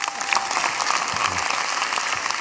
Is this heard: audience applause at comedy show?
yes